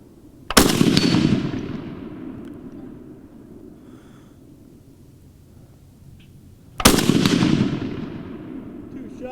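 Two loud, sharp bursts from an MMC 1946 Madsen light machine gun, the second coming about six seconds after the first. Each burst echoes and decays over quiet background noise.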